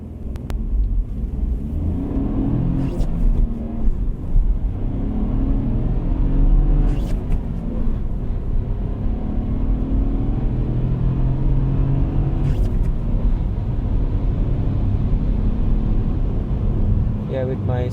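A manual-gearbox Dacia Duster drives at night, giving a steady low road and engine rumble throughout with faint revving between gear changes. A person talks over it.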